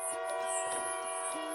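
Train sound in a toddler learning activity about vehicles, heard as a steady, sustained rumble with bright, tonal hiss throughout, close and continuous, likely music-like bed with possible voice.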